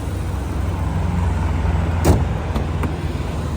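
A car's engine idles smoothly with a steady, even low hum throughout, and a couple of sharp clicks break in near the end.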